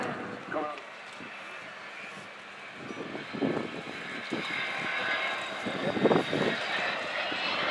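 An Avro Vulcan XH558 delta-wing bomber flies slowly at the 2014 Farnborough Air Show, its steady jet-engine roar filling the air at a distance while a commentator talks over it.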